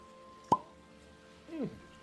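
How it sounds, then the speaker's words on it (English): A cork pops from a bottle of aged whiskey in a single sharp, close plop, followed by a softer squeaky rustle a second later. "Let's go ahead and pop the cork."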